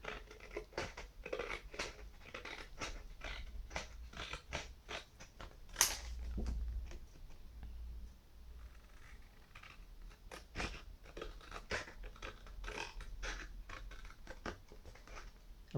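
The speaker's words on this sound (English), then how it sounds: "watching me cutting out pieces of cardboard" Scissors snip through pieces of cardboard up close, with a run of irregular crisp cuts and crunches, quiet overall, plus one sharper clack partway through; nobody speaks.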